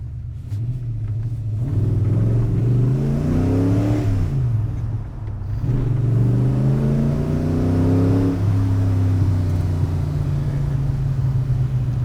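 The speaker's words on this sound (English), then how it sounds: "The torque and the performance from a V8 mid-mounted car like this is more than you need." A Ford GT40 with a mid-mounted V8 engine rumbles and revs while driving, its steady low drone rising and falling through gear changes, loud and close with no talk.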